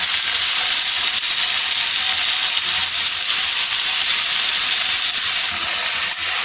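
Steady, loud sizzling of taro stolons frying in a pan with salt and turmeric, a continuous hiss with no talking.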